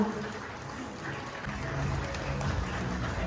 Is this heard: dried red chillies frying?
no